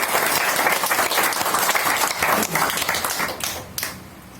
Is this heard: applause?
yes